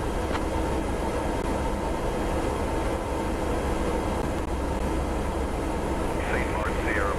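Cessna C208 Caravan turboprop idling and taxiing in Microsoft Flight Simulator 2024, a steady broad engine drone holding even and loud throughout, with a short whistling tone near the end.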